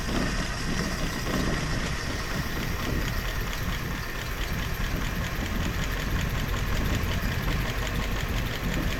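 A 1958 Chevy Bel-Air engine idles steadily on its carburetor after 30 years of abandonment, a close, continuous rumble with a faint knock that holds without pause.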